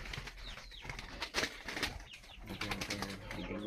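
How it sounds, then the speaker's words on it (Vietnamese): Young spotted doves in a breeding pen give soft coos and chirps alongside wing flaps and rustling. The sounds are faint and close, with busy background noise. "Con chim này là con chim non,"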